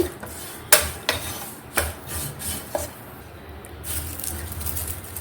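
Curry leaves dry-roasting in a pan for prawn-shell chilli powder, stirred with a utensil, giving dry rubbing and rasping scrapes with a few sharp knocks against the pan, close and steady.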